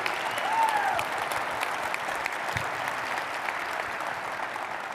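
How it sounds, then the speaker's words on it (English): A large keynote crowd at a technology conference applauds, producing a continuous, dense roar of clapping that stays steady and loud throughout. "you should stand up and applaud right now"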